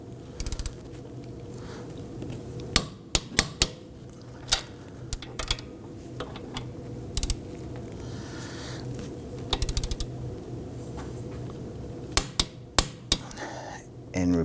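On a 2005-2009 Subaru Legacy front steering knuckle, a torque wrench tightens the four hub bolts with clusters of sharp clicks and ratchet snaps over a quiet background.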